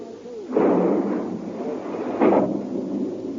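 Two torpedoes launched from a submarine, each a deep rushing whoosh and rumble, the first strong and sustained, the second following a couple of seconds later.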